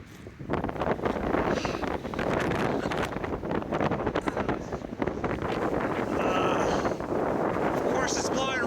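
Strong, constant wind buffets the microphone on a desert hike through sagebrush, a loud roaring rumble with gusty surges, while a voice is faintly audible beneath it.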